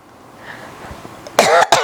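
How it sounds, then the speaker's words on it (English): A person coughs loudly and abruptly, one harsh burst followed by a shorter second cough, close to the mic after a stretch of quiet room tone. "I'm literally coughing"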